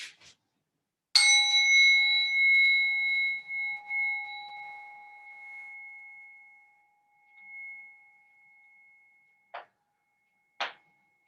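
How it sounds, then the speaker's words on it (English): A meditation bell is struck once during a yoga session and rings out with a clear, sustained tone that slowly fades over several seconds, followed by a few faint taps. "I'll ring the bell to start us in and then to bring us out again"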